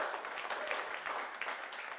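Audience applause for a performer at a live radio music show, a steady patter of clapping from a modest crowd lasting a couple of seconds, moderately quiet with no talk over it.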